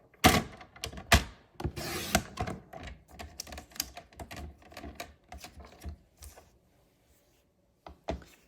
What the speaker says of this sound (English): I'm going to trim right below where my embossing is for the ground.